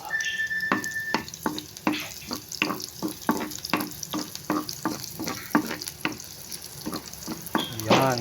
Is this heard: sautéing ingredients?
yes